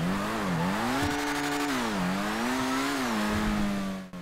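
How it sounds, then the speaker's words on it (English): Annis S80RR car in GTA 5 Online, its exhaust note rising and falling through revs with a thin, high turbo whine layered above, steady and close with no voices. "I can clearly hear the whine of a turbo, which makes the entire car sound fantastic to me"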